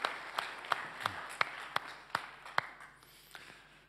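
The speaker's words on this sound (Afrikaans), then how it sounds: "Kom ons gee vir hulle 'n hande klap." Small scattered hand clapping from a church congregation, a handful of sharp claps at an irregular beat over a few seconds, thinning toward the end.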